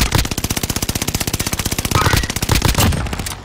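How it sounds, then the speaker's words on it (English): Rapid automatic gunfire in Call of Duty: Modern Warfare, a loud, fast and evenly spaced string of shots that runs nearly nonstop with slight shifts in tone. "this man shooting me through the wall"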